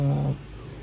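A pet dog lets out a short whining growl close by, a brief sound under a second long that fades into quiet room noise.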